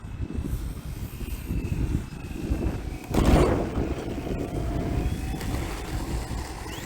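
An E-flite T-28 1.2 m RC model airplane circles in to land on a windy day, its electric motor a steady buzzing drone that swells briefly as it passes close, with wind noise underneath.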